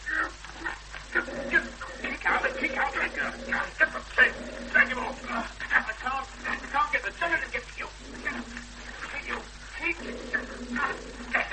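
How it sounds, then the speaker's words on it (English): In a radio drama scene, a dog barks and whimpers in short yips and whines, mixed in among people's voices talking over it. "Lloyd, get your dog off."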